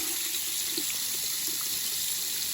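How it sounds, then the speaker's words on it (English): Hot tap water runs steadily over a plastic part of an SH Figuarts Cell First Form action figure, a constant close hiss and splash with no talking. "let's go run it under some hot water"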